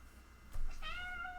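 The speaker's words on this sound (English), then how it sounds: "I don't know if you guys can hear the cat." A cat meows once, a drawn-out nasal call rising then holding steady, fairly close in an indoor workshop, just after a short soft thump.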